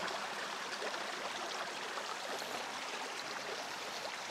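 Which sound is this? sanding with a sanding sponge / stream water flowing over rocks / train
stream water flowing over rocks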